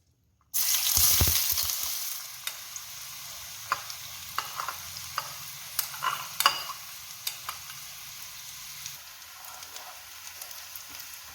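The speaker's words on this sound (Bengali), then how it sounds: "এবার আমরা পেঁয়াজ কুচিটা দিয়ে দেব।" Chopped onion drops into hot oil with sugar already in the pan. A burst of loud sizzling breaks out, then settles into steady frying under repeated scraping and stirring clatter.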